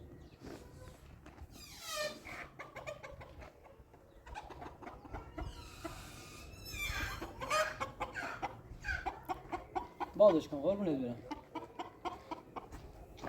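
Chickens cluck and squawk close by at a nomadic family's camp after heavy rains, a busy run of calls growing livelier toward the end, while people talk over them.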